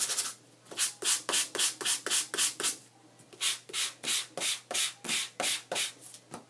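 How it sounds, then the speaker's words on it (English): Sandpaper rubbed back and forth over cardstock to distress its edges, producing about fifteen steady, rhythmic scraping strokes with a short pause in the middle, close and clear with no talking. "so I'm just going to sand over this again."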